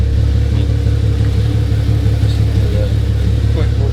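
Catless V6 Chevrolet Camaro with a ZL1 exhaust, a steady deep low rumble close by, holding an even idle-like drone throughout without clear revving.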